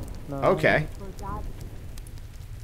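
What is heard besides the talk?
rain in video game Dyscourse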